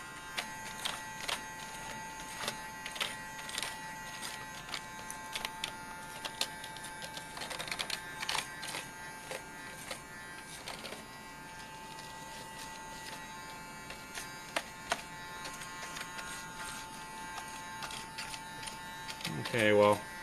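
A small USB-powered brush cleaner runs over a grimy computer keyboard, a thin steady electric buzz with rattling brush clicks, while someone talks over it throughout.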